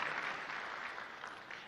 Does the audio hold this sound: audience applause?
yes